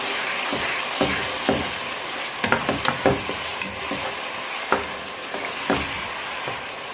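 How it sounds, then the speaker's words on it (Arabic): Onions go into hot oil and ghee in a pan and fry with a steady sizzle, punctuated by the clicks and scrapes of stirring. "هنزل بالبصل اهو عليهم المنظر ده كده"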